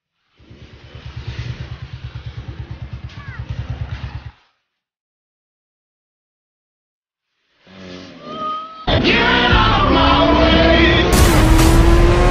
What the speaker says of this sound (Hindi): कैसे भाग कैसे रही है गाइस इतनी पुरानी बाइक